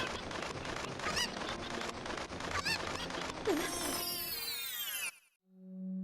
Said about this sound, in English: Say goodbye to that chicken.